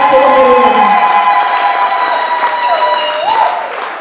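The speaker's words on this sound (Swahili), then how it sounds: "Nasema pigia Yesu makofi mazuri." Applause for Jesus at a church ordination ceremony, a congregation clapping steadily and loudly for several seconds, a dense wash of hand claps that fades slightly toward the end with a faint tonal hum beneath.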